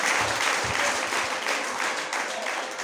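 A church congregation applauds and cheers in acclaim of Jesus, a dense, steady wash of clapping held at an even level throughout, with faint voices mixed in.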